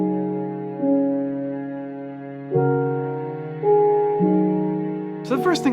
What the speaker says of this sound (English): It's the iconic digital piano sound, just playing a few simple chords.